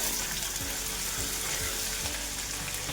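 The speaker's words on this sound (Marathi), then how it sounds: "ठेचलेला लसूण छान तांबूस होईपर्यंत परतून घेऊया" Crushed garlic and chili pieces fry in oil for a village-style spring onion stir-fry, giving a steady, close hiss with faint crackles and light clinks of a spatula, no talking.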